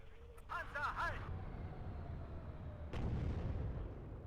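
A tank round fires in the video game WARNO, a sharp boom followed by a rolling rumble, with a second blast about two and a half seconds later; brief game voice chatter comes just before.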